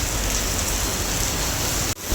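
Steady rain pours down in an even, dense hiss that barely changes, with a brief dip near the end.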